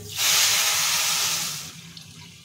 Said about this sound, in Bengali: দিয়ে দিচ্ছি জল।